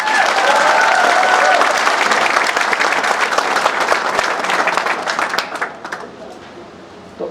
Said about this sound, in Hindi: आपके लिए एक तालियां हमारी टीम की तरफ से